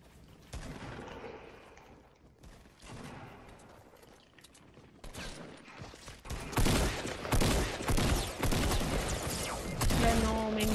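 Fortnite gunfire, including a Magnum, crackles in rapid bursts that grow denser and louder toward the end, with sharp close shots over busy game noise.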